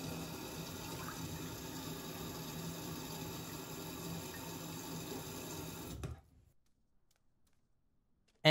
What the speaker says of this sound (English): Get water from the bathroom sink.